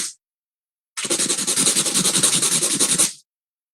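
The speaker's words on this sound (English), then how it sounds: "And then all I did is I just" Sanding a cut wooden Christmas decoration piece by hand: a close, steady burst of rapid rhythmic rasping strokes lasting about two seconds, with silence before and after.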